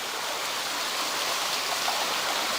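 Water crashes continuously at the Thirteen Feet waterfall on the way to Poddomukh, a broad even roar heard up close with no pauses or voices.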